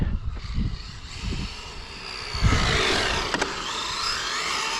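A Maverick Strada RC car with a brushless 5000KV motor whines on a track, its high motor pitch rising and falling as it passes, moderately loud and fairly close, with no talking.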